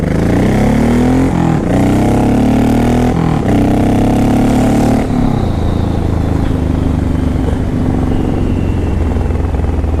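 A Honda VTX 1800 motorcycle engine, loud and close, rises in pitch through three rev bursts, each cut off sharply, then drops back to a deep, throbbing idle.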